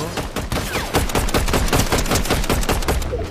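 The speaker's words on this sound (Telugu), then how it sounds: "అదిగో కాల్చాడు, నన్ను కాలుస్తున్నాడు" Rapid automatic gunfire in the Fortnite video game rattles loud and close in a fast continuous burst of shots, lasting about three seconds with no pause.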